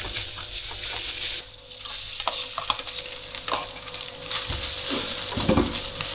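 Lapcong fried rice with spring onions being stir-fried in a pan, a steady sizzle of frying with scraping, clattering stirs of a utensil against the pan, close and moderately loud, with no talking.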